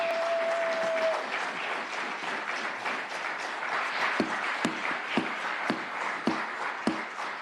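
Clapping and scattered cheering from an audience at a San Diego County public hearing on a kratom ban, dense at first, then thinning to individual sharp claps that stand out near the end.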